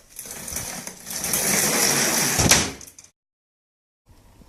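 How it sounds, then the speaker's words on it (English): A chair is pushed across the floor into a table, a rough scraping rumble building for a few seconds and ending in a sharp knock as books slide off onto the tabletop, then near silence. "when we push the chair, it's going to run into this table over here"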